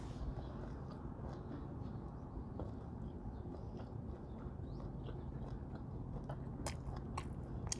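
Someone chewing grilled beef rib meat that is partly charred, close soft biting and mastication sounds over a low steady background rumble, with a few brighter clicks near the end.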